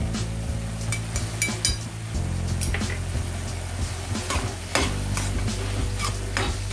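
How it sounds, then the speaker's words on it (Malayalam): Spice powders, including garam masala and roasted cumin powder, with green chillies and pepper, sauté in a pan for a baby corn masala curry, a spoon scraping and stirring over steady sizzling, with occasional clinks against the pan. "ഇതിൻ്റെയൊക്കെ പച്ചമണം പോകുന്നവരെ നന്നായി വതക്കിയെടുക്കണം"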